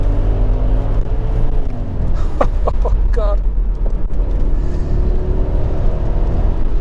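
Deep, steady engine rumble from an Audi RS6 Plus with a Cosworth-reworked twin-turbo 4.2-litre V8 and low-pressure exhaust, heard from inside the car; a man briefly exclaims partway through while the low drone carries on underneath.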